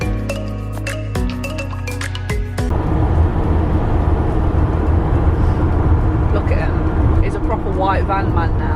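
A VW Crafter van drives along the road, a loud, steady low rumble of engine and road noise that swells in after a few seconds, with a voice heard briefly over it.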